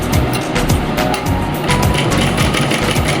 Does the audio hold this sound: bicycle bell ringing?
no